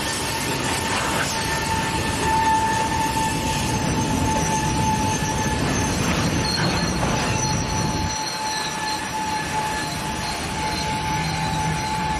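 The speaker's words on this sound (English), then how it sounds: "trying to beat an approaching train over the crossing with unfortunate results" A train approaches a railroad crossing with a loud, continuous rumble of wheels and cars close by, and steady high metallic wheel squeals ring over it throughout.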